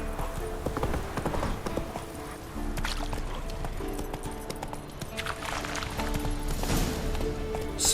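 Roach, the horse in The Witcher 3, is ridden with a steady, rhythmic clip-clop of hooves that continues throughout, close and fairly loud, over constant outdoor game ambience.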